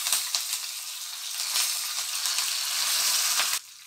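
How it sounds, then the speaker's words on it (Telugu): Curry leaves dropped into hot oil with crushed garlic and a dried red chili, crackling and sizzling steadily and close up for a few seconds before cutting off abruptly. "అలాగే మనం కరివేపాకు వేసుకోవాలండి."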